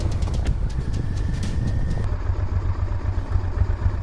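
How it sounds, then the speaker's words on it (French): Motorcycle engine idling at 1,740 metres altitude after a border crossing in the Balkans, a steady low rumbling throb with faint rattling, heard up close and alone with no talk. "T'entends la moto comme elle fait? Le ralenti, il en a marre."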